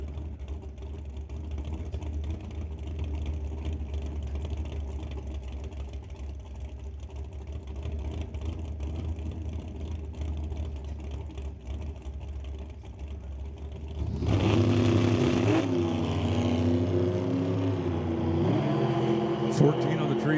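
A drag race car launches down the track at an NHRA Northwest National Open Series test-and-tune session, driven for Rad Torque. A low steady rumble suddenly swells into a loud, rising engine roar near the end, under a commentator's talk.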